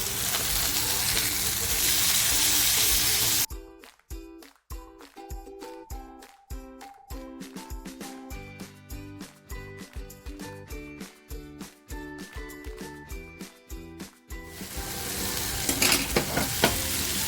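Surmai kingfish sizzles steadily in a frying pan, breaks into a run of sharp taps and scrapes as it is gently turned and moved so it won't stick, then settles back into an even, close sizzle.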